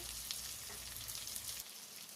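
Beans and vegetables sizzle in a pan for uppittu, a steady close frying hiss that runs through the short stretch with no talk.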